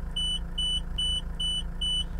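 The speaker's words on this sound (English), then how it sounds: "If the park brake is engaged and the F&R switch is moved to either forward or reverse, an alarm will sound." A John Deere 204K or 304K loader sounds its park brake warning alarm, a loud steady series of about five evenly spaced electronic beeps over a low engine hum.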